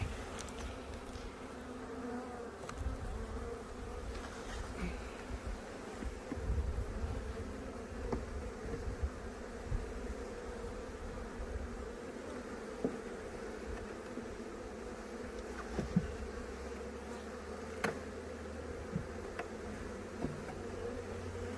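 Honeybees from a strong hive, opened during a nuc transfer, hum in a steady, dense drone that holds for the whole stretch, with faint clicks and handling noises scattered through it.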